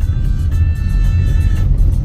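Cars drive along a city street in Quetzaltenango, producing a close, continuous low engine rumble and road noise throughout.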